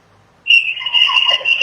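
A whistle is blown once and held as a loud, steady, piercing tone for over a second, close by, after a quiet start.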